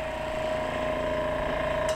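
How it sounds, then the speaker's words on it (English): Steady hiss of an airbrush spraying paint onto a Zone Mortalis miniature, a continuous close, even whoosh with a faint mechanical whine from the compressor, no talking. "I'm going to turn on the airbrush because that'll help a bunch"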